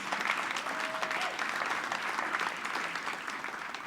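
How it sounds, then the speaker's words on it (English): Sustained audience applause at a scientific merit awards gala marking an anniversary, a dense steady wash of many hands clapping for award recipients throughout, fairly distant and even. "I think we need to give another round of applause to all our recipients"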